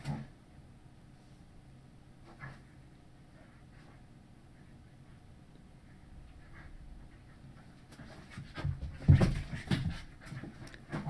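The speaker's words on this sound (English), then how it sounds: "Oh, this dog is getting on my nerves." A dog in the video game Deadly Premonition 2 pants quietly at first, and the panting swells into louder, close, agitated breathing with whimpers toward the end.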